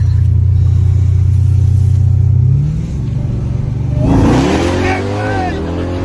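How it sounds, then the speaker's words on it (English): A 1300 horsepower Jeep Trackhawk launches hard, with a loud steady engine drone that breaks into a rising, revving surge of acceleration, heard up close from inside the cabin with a voice reacting over it. "now we're on to the menace from the beginning of the video in a 1300 horsepower Trackhawk with a unbolted passenger seat."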